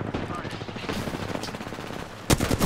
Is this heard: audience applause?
no